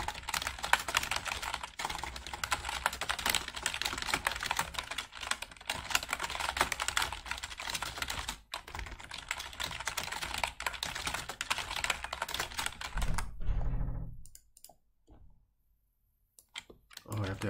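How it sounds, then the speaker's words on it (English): Very fast typing on a computer keyboard, a dense continuous patter of key clicks that runs steadily, stops abruptly near the end and then resumes briefly. "you can hear that just typing sound on the keyboard"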